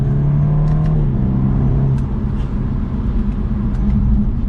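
A 2022 BMW 230i coupe driving in sport mode gives a steady, moderate engine hum with a low rumble and a slight pitch shift, fairly quiet and continuous from inside the cabin.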